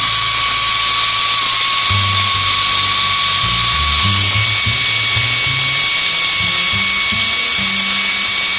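A small Mini 4WD toy race car electric motor whirs steadily at a high pitch, its low tones shifting and stepping throughout, loud and close with no talking.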